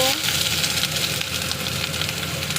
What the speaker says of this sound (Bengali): পেঁয়াজটাকে একটু ভেজে নিলাম হালকা